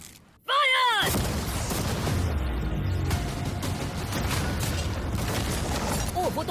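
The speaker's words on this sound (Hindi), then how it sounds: "अब हम तुम्हारी नई यॉट पर कैनन्स को शूट करने वाले हैं।" Cannons fire cannonballs at a yacht, a sudden loud blast followed by a long crashing, rumbling wash of debris and impacts that continues for several seconds, with a brief whistling tone near the end.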